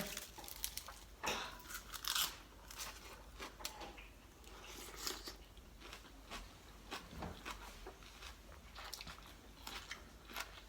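Someone eats a spicy Thai glass noodle salad, with repeated close, wet crunching and biting bites at an irregular pace, some louder crisp crunches standing out, no talking.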